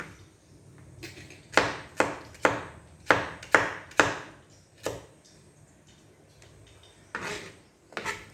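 A knife chopping onions on a board for a gram-flour bhurji, with a series of sharp, close chops in irregular bursts and short pauses between them.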